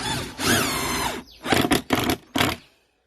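A power drill drives screws into wood while a simple wooden garden tool holder is assembled. One longer whining run of the motor is followed by three short, sharp bursts, close and fairly loud.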